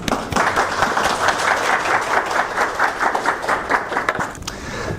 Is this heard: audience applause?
yes